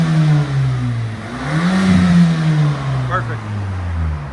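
A 2013 Ford Escape 2.0L turbo running straight pipes revs hard nearby, its raspy exhaust rising and falling in a couple of throttle sweeps while a voice speaks briefly over it.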